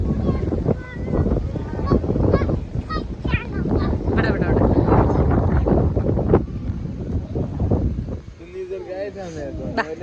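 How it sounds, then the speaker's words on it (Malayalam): Strong wind buffets the microphone at a beach in Jeddah, a steady loud roar and rumble throughout, with people talking over it. "ഭയങ്കര കാറ്റില്ലേ നല്ല തണുപ്പാണ് നല്ല തണുപ്പും നല്ല കാറ്റും"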